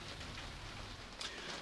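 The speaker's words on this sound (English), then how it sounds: "It's still chucking down at the moment" Heavy rain pouring down outdoors over a garden: a steady, even hiss of falling water throughout, close and constant, with a faint bird coo in the background and no talking.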